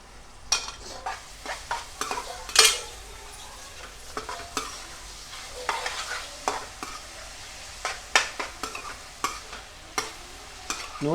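Onions and spices frying in oil, a soft sizzle broken by repeated scraping stirs and clanks of a utensil against the pan, irregular and close, with no voices.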